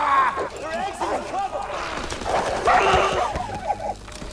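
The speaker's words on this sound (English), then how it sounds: "Those dogs again" Dogs bark and yip in the Call of Duty: WW2 video game, a busy run of dog calls mixed with game noise and players' voices over it.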